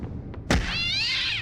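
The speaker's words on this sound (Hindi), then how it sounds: "ये बिल्ली कहाँ से आ गई?" A cartoon cat gives a short meow with a wavering pitch right after a sudden thunk, heard close and loud over background music.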